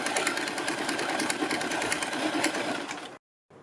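A sewing machine runs one continuous, close, steady line of stitching along the edge of a strip on a short kurti, then stops abruptly, with no talking.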